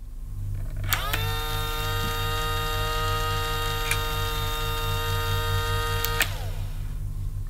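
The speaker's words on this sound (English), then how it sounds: "if we want to see the cyclonic action, we press the button at the top, and then this coloured dirt spins round" Casdon toy Dyson DC24 vacuum cleaner running its cyclonic action, a steady whirring toy motor that starts with a rising whine, holds for about five seconds, then winds down, close and alone.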